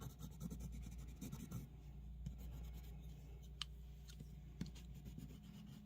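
A yellow ochre colored pencil rubs across watercolor card in quick, soft scratchy strokes, faint and close, with light taps and brief pauses between bursts of blending.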